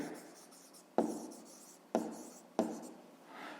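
Digits are handwritten on paper as a math exercise is worked, with three distinct pen strokes, each a sharp tap followed by a short scratchy trail, in a quiet room.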